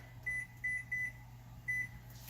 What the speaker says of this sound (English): I'm going to set my timer for 30 minutes.